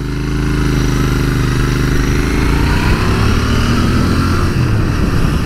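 A loud 2019 Royal Enfield Interceptor 650 motorcycle engine runs close by with a thumpy, steady rumble, its pitch rising and falling slightly as it revs.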